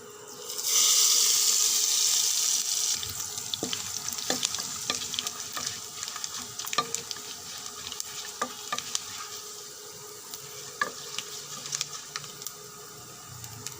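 Panch phoron spices (kalonji, fennel, fenugreek, radhuni) hit hot oil with reddened ginger, giving a loud burst of sizzle that settles into a steady crackling fry, with scattered sharp spatters and clicks of stirring throughout.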